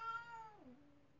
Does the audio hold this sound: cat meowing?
yes